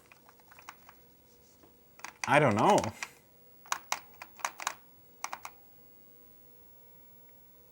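Clacking keys on an Apple IIe computer keyboard come in short scattered bursts with pauses between them, close and fairly loud, and a brief spoken remark comes in partway through.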